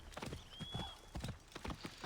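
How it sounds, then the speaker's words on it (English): A horse galloping up in Assassin's Creed Origins, sharp hoofbeats striking in quick rhythmic bursts, fairly close but quiet, with a faint whinny-like tone partway through. "Ask for my horse. My horse is just gonna come here."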